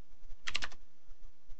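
A few quick keystrokes on a computer keyboard as a short command is typed at a terminal in a computer science lab, a tight cluster of soft clicks, close and fairly quiet, with no voices.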